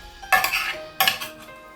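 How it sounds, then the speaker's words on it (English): A spoon stirs a metal pot of roasted vegetables and seeds, two sharp scraping clinks close by, each followed by a short rattling drag. "just give it a good stir"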